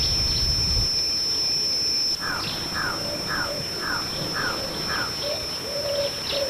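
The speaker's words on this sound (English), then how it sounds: "The crow utters a series of calls." A jungle crow near Kulik gives a series of six evenly spaced calls, clear and moderately close over a steady high insect drone in an outdoor setting.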